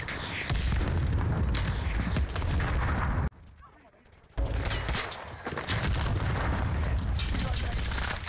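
A rocket explodes in Warzone, a loud, dense blast of booming noise that cuts out abruptly, pauses in near-silence, then returns just as heavy with continued rumbling gunfire and explosions.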